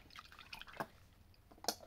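A few drops of Ribav plant stimulant fall into a water bath prepared for soaking orchids, giving two or three soft, brief drips close by in a quiet room.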